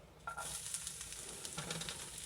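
Meatloaf ingredients sizzle steadily in a hot pan, a continuous bright hiss with small pops and crackles, fairly quiet and close, with no voices.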